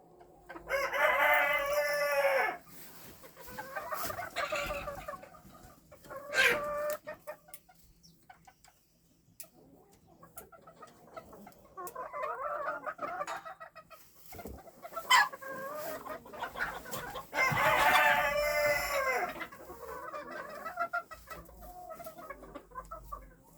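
Bantam roosters crow loud and close in two strong bursts near the start and end, with softer clucks and calls scattered between them.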